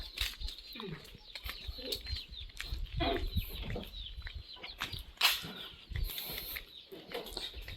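Chickens clucking and scratching around a rural Lao yard, soft scattered clucks at moderate distance amid rustling and outdoor background noise, with a little faint human voice mixed in.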